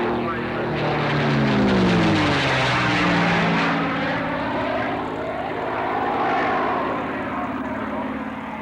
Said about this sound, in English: the particular Mustang is powered by a Rolls-Royce Packard V12 Merlin.